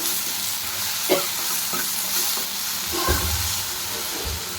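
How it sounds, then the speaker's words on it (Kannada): Tomatoes frying in a pan for restaurant-style paneer masala give a loud, steady sizzle and hiss throughout, with a few soft stirring knocks from a spoon. "ಟೊಮೊಟೊ ಹಾಕೊಂಡು ಮತ್ತೆ ಇದು ನೀರೆಲ್ಲ ಹಿಂಗೋ ಥರ ಫ್ರೈ ಮಾಡ್ಕೋಬೇಕು"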